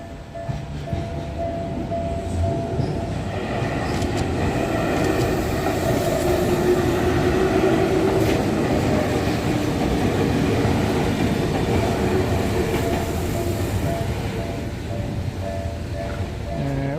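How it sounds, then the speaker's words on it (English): A train rolls past a level crossing in Tokyo in the evening, a loud, steady rumble of railcars with rhythmic wheel clatter heard up close throughout. "Let's see once the train arrives."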